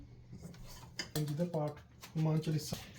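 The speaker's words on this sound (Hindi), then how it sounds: "शर्मा जी अभी गरम कर रहे हैं राजमा। गैस ऑन कर देती हूँ।" Pots and utensils clink and clatter in a home kitchen while rajma is reheated on a gas stove. The metallic knocks come in short bursts, mixed with nearby voices talking.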